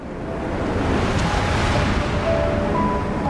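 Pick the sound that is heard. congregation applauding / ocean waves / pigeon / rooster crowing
ocean waves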